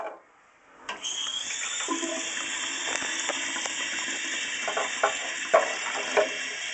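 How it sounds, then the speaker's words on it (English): Tap water runs hard into a kitchen sink over a piece of asbestos, a steady, close, hissing rush that starts abruptly after a brief quiet moment and continues with small splashes. "I'm going to set it in the sink and I'm going to run water on it"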